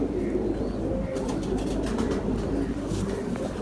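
A Firozpuri pigeon coos steadily in a low, continuous murmur against constant background noise, with faint rustling on top.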